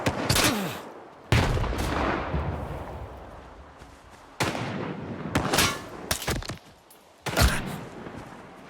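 Shotgun blasts ring out in the video game S.T.A.L.K.E.R. 2: about six loud, sharp booms at irregular intervals, each followed by a rumbling decay, with no speech.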